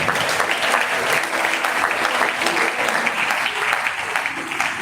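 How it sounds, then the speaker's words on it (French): A congregation at a funeral service claps in praise of the Lord, a loud, continuous wash of many hands that holds steady throughout, with faint voices mixed in. "est-ce qu'on peut acclamer encore le Seigneur?"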